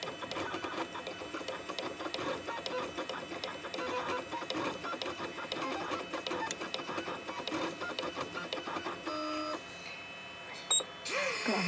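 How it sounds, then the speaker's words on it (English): An engraving machine cuts a design into a pendant or pocket watch with a steady, busy mechanical whir and rapid buzzing stylus chatter throughout, ending with a few short beeps and a brief louder burst. "Okay, that's been sent down to the machine. Let's get engraving."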